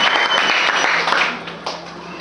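A church congregation claps as people sit down, steady, dense applause close by that continues throughout with a few louder claps standing out.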